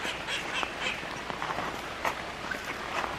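A duck in a garden gives soft, scattered quacks, close by, with some rustling and shuffling sounds in between.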